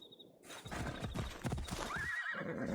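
A horse in Assassin's Creed Odyssey clip-clops in steady hoofbeats and gives a clear neigh near the end, with no talking over it.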